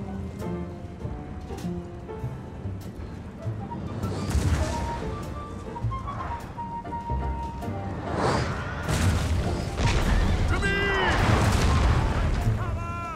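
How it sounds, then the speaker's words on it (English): Artillery fire in the Napoleon Total War video game, a dense, continuous mix of booms and crashes under battle music and a voice talking throughout. "Napoleon's artillery is coming for you"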